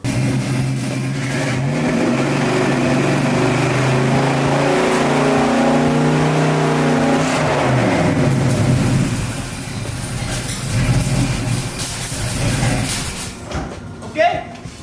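A Ford Mustang raised on a lift revs hard with its wheels spinning, a loud sustained engine drone rising and falling, then dropping to a rougher lower idle as people talk.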